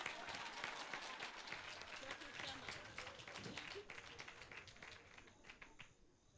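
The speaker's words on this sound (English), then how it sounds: "can I request for another hand clap for Mrs. Nkubi?" Wedding guests clap their hands in a quiet, fairly distant round of applause that thins out toward the end, with some voices murmuring underneath.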